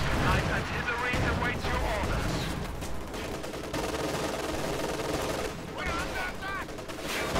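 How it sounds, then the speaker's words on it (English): A Stuka dive bomber fires somewhere far off in a World War II strategy game, with rattling bursts of gunfire and heavy booms rolling on steadily while a commentator talks over the action. "Stuka's actually firing way in the back on something"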